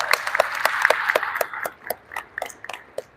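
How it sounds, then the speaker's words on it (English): A crowd claps in scattered, uneven bursts at an outdoor groundbreaking ceremony for a school addition. The clapping is fairly close and fades to sparse individual claps toward the end. "Let's give HGC a round of applause."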